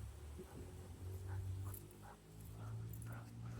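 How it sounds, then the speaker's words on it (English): A dog whimpers softly during a walk outdoors, faint whiny yips over steady background noise. "This is my dog. I'm walking my dog"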